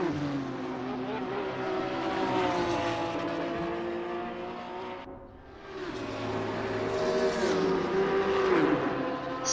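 A Porsche 911 GT3 R racing around Monza in a GT3 racing game, engine note climbing through gears, briefly dropping as it lifts and brakes, then revving hard again with a faint tyre squeal.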